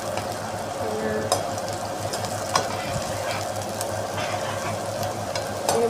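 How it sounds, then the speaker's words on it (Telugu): Onions frying in a pan until light brown, giving a steady close sizzle with a few sharp stirring clicks scattered through it. "కొంచెం లైట్గా బ్రౌన్ కలర్ వచ్చేంత వరకు వేయించుకోవాలి."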